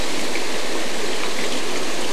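A waterfall and stream rush loudly and steadily as a close, even roar of flowing water with no voices.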